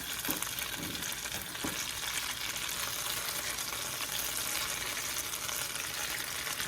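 Mashed potato cakes sizzle and fry in a pan, a dense steady crackle filling the clip, with a couple of soft knocks from a spatula as they are turned.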